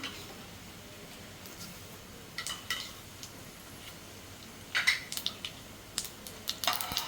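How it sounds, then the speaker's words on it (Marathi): Cumin and white sesame seeds dropping into a spoonful of hot oil in a pan, heard as faint scattered crackles and light ticks that grow busier toward the end, over a quiet background. "मी पॅनमध्ये एक चमचा तेल गरम करून घेतलेले आहे यामध्ये मी जिरं घालते पांढरे तीळ"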